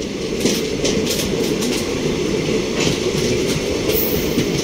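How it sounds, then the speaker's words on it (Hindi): The Humsafar Express, running from Bandra Terminus toward Bhagat Ki Kothi, passes close by as a loud, continuous rumble, with repeated clickety-clack of wheels over rail joints. "सॉरी, ये हम सफर एक्सप्रेस है भाई"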